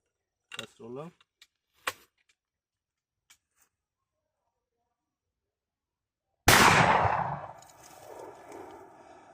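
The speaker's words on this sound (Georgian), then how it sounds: "ეს იყო ბოლო გასროლა." A single loud, close shotgun slug shot booms out and decays into a long, rolling echo, following a few seconds of brief talking and near silence.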